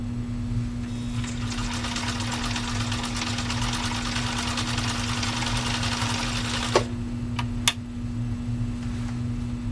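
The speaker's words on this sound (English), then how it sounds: "A stretch style stitch on a Type 2000 Husqvarna." A Husqvarna Type 2000 sewing machine running a stretch stitch with a long stitch length, producing a steady, close mechanical whir with a constant hum and fast rhythmic needle chatter, then a couple of sharp clicks near the end.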